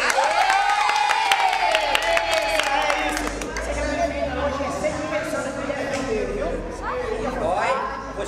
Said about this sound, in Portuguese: Palmas pra Rayane!